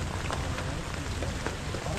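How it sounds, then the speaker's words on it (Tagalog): Steady rain pours without pause over a vegetable farm with bitter gourd crops during the southwest monsoon, a dense continuous hiss with occasional heavier drops, close and even throughout with no talk. "Ay sa walang tigil na ulan."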